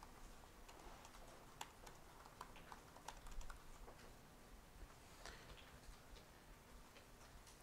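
Faint, irregular clicking of keys on a computer keyboard while Python code is typed, with quick scattered taps and occasional louder keystrokes against a quiet room.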